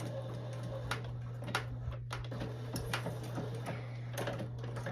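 A sewing machine back stitches a seam on slippery fabric for a tiered maxi dress, a quiet electric hum under a run of soft mechanical ticks and clicks, close and without talk.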